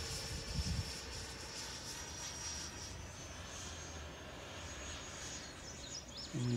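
An Eflite F-16 RC model jet flies past, its electric ducted fan giving a steady, moderately distant whine and rushing hum that holds through the clip and swells slightly at the end.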